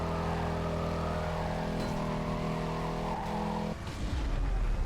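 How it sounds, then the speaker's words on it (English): Chrysler 300 SRT8 in Need for Speed: Carbon, engine droning steadily at speed, a low continuous hum with slight pitch shifts and a brief dip near the end as the revs change. "Gotta love the unstoppable force of a Chrysler 300 SRT8."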